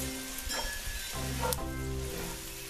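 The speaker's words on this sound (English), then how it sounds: "We'll saute those until they're tender." Food sautéing in a hot Dutch oven for beef stroganoff gives a steady sizzle and frying hiss. It runs throughout, close and fairly loud, with a few brief clinks or stirring touches and no talking.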